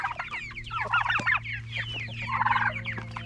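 Several chickens cluck and squawk close by in busy, overlapping bursts, over a low steady hum.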